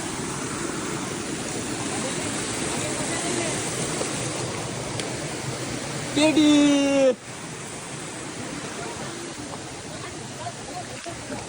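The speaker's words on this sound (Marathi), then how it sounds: "बघा आता किती मोठा धबधबा आहे." A large monsoon waterfall on a rainy bike-trip route between Murbad and Khopoli sends out a steady, enveloping roar of rushing water for the whole stretch, with a brief voice rising over it midway.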